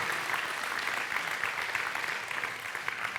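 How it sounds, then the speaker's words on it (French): A room of attendees at a mayor's New Year reception in Saint-Germain-Nuelles applauds two volunteer fire brigade chiefs, with dense, even clapping that holds steady throughout. "je vais vous demander d'applaudir nos deux responsables des pompiers"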